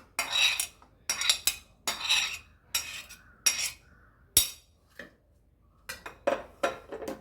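Chopped onion and green chilli go into a pan of curd for a bitter gourd pachadi, followed by rhythmic bursts of a metal spoon scraping and clinking against the pan, loud and close, separated by short pauses.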